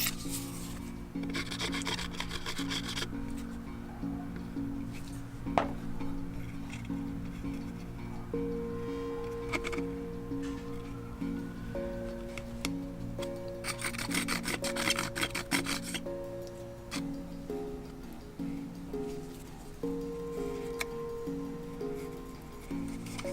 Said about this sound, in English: I had to take my X-Acto blade and use it as a scraper to get away any overlapping areas